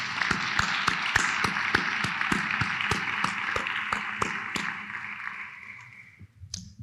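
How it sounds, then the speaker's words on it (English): Hearty applause with dense, sharp hand claps fills a formal oath of office ceremony honouring the Simsbury Police Department, holding steady for about six seconds before thinning out at the end. "please give a round of applause to our amazing Simsbury Police Department"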